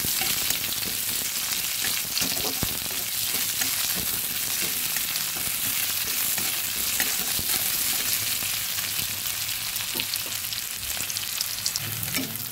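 Chopped onions fry in a pan alongside broken-up fish head, giving a dense, continuous sizzle with small crackles and occasional stirring scrapes, close and steady throughout.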